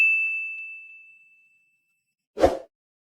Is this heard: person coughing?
no